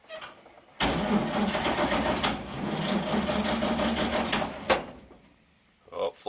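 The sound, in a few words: 1942 Chevy 1.5 ton truck engine cranking, flooded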